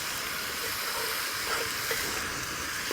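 Beef mince cooking in a pan gives off a steady, fairly loud sizzle and hiss throughout, with a few faint clinks and no talking.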